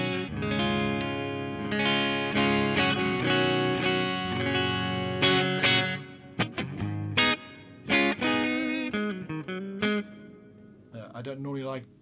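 A distorted electric guitar plays through a Modulus MOD800 2204 amp kit with the bright cap swapped out, giving a dark, dull tone. Sustained chords give way to choppy, stopping phrases near the mic.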